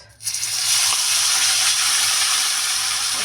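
Fish seasoned with salt and turmeric lands in smoking-hot oil in a kadai over low gas, bursting into a loud, sustained hiss and crackle of frying right after a brief quiet start.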